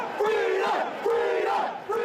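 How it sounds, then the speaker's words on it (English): Protesters against COVID restrictions chant and shout outside State Parliament in Melbourne, a loud, dense crowd roaring in repeated rising waves of voices. "Hundreds of protesters rallied against COVID restrictions near the steps of State Parliament"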